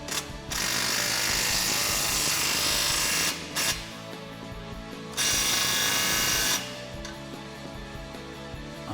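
A power tool gun, apparently a ratcheting impact or drill type, tightens an exhaust clamp on a 2015-2021 F150 5.0L with a Magnaflow 3-inch exhaust, running in loud sustained bursts with short pauses in between.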